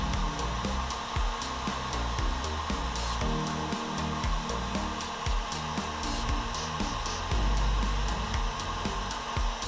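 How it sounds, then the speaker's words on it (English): A heat gun blows hot air to melt the solder in a solder seal heat shrink wire connector, giving a loud, steady whooshing fan roar with a faint pulsing hum that runs without pause throughout. "Turn off our heat gun."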